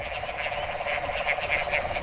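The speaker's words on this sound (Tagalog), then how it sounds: "Sarap sa tainga pakinggan tuwang-tuwa yung mga palaka dahil sa ulan" A dense chorus of frogs croaking in pulsing, overlapping calls during rainfall, over a steady wash of rain hiss, no voices.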